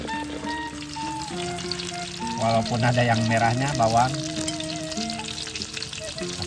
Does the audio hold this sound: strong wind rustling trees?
no